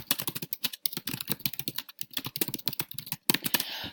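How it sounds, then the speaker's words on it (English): Rapid keystrokes on a computer keyboard as an article title is typed, a close, steady run of clicks with brief pauses between bursts. "So I'm just going to type that on how to become a teacher."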